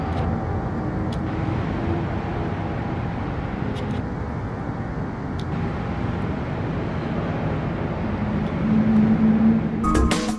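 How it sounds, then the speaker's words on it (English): Cars circling a race track pass by as a steady roar of engines at moderate distance, with a broad continuous rumble and a rising engine whine toward the end, no talk. "check them out in their cars coming by."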